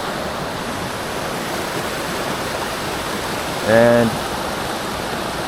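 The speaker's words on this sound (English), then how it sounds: "White water, that's the most oxygenated water they can get into when the water's low." White water flows steadily through the River Birs in Switzerland, a continuous broadband rush near the bank, with a brief spoken word partway through.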